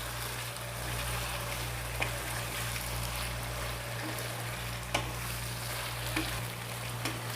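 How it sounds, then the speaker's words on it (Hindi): Red and green capsicum with onion cook in a pan, a soft steady sizzle under a constant low hum, with a few faint clicks of stirring. "दो से 3 मिनट हम इसको पकाएंगे, शिमला मिर्च को और प्याज को"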